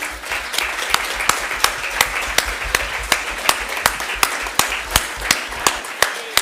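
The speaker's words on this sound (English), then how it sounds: "if I could ask for a round of applause for our panellists" A conference audience applauds panellists after a session on supporting vulnerable retail-market consumers, the dense clapping carried along by a rhythmic run of sharp, regular claps that sound roughly twice a second.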